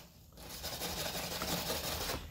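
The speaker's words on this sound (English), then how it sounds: "let's go with the wire brush." A wire brush scrubs paint off a plastic surface with a continuous rough, rasping scratch, close and steady after a quiet start, with no talk.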